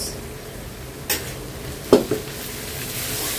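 Spices being sautéed in a pot for beef tehari give a soft continuous sizzle, with a couple of brief stirring scrapes and a spoon clink.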